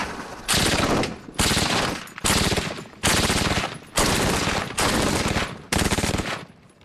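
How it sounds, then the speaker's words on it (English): A SAW squad automatic weapon machine gun fires six long bursts of rapid automatic fire, each about half a second to a second, with short gaps between, loud and close, no talk. "This is the SAW, Squad Automatic Weapon. It can put down a lot of firepower very quickly."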